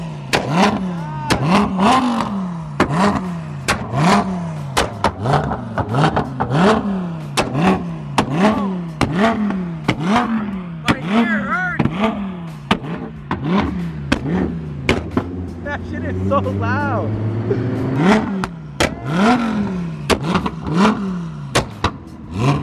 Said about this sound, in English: But a straight pipe Lambo.